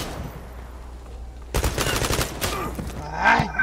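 Gunfire in the online shooter Zula: a quiet stretch breaks into a rapid burst of close automatic shots, followed by further scattered fire and game effects.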